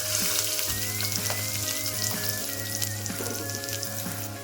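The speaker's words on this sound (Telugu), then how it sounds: "ఇలాగే బాగా వేయించుకోవాలి మనం ఉల్లిపాయలు" Green chili and chopped onion frying in hot oil, a dense continuous sizzle with crackling pops throughout, close and fairly loud, with no one speaking.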